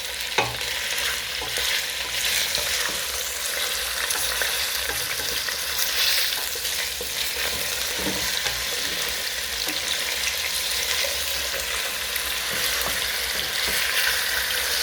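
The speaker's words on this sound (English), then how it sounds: "I'll fry it until it's not raw." Chicken frying in a pan, loud, dense and continuous sizzling close by, with faint stirring clicks underneath throughout.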